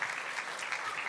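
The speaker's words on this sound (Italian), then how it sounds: "facciamo un applauso a questi ragazzi" An audience at a school technology event in Italy applauds students, dense steady clapping from many hands, fairly distant and sustained throughout.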